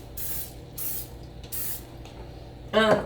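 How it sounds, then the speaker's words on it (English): Three short bursts of cooking spray hiss onto a baking pan in a steady rhythm, close and fairly loud, followed by a brief clatter at the end. "just hit your pan with a little bit of cooking spray"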